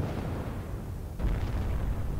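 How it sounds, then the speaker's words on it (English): A deep, rumbling nuclear explosion in the video game MWLL bursts in suddenly and swells into a sustained low roar, loud and heavy, with no talking. "Nuclear explosion."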